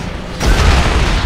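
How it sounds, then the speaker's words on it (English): An RPG rocket explosion in the video game Dead Rising 3 lands as a single heavy boom about 0.4 seconds in, followed by a loud, sustained rumbling blast that carries through to the end. "Yeah, that's right, she's got an RPG."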